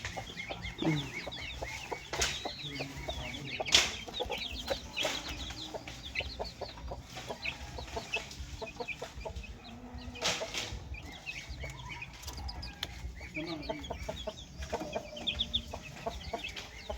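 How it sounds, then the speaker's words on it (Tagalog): Pet chickens clucking close by, with repeated short clucks and soft squawks scattered across the whole stretch, occasional wing flaps and sharper calls, no talk. "Yan o, alaga niya mga manok."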